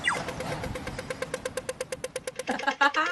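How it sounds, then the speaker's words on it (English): Australian traffic-light pedestrian crossing signal: a steady run of rapid, evenly spaced electronic ticks, loud and close, with a few brighter chirps near the end and no talk over it. "part of this song involved a sample of an Australian traffic light crossing sound"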